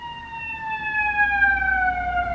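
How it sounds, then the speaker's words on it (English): Emergency vehicle sirens pass by, sounding as clear tones that slowly slide downward in pitch, fairly loud and heard on their own without talk. "Letting the sirens go through."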